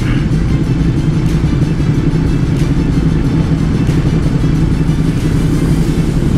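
A Ducati big bike engine rumbling steadily while riding, a loud, continuous low drone close to the rider with wind noise and no speech.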